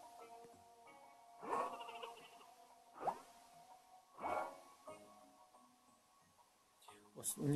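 Sheep bleat in the video game Flockers, a few separate bleats spaced a second or so apart and rising above a steady bed of game sound.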